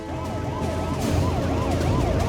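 Ambulance siren wailing in a steady rising-and-falling sweep, loud and close and continuous throughout, with road traffic rumbling underneath and no voices.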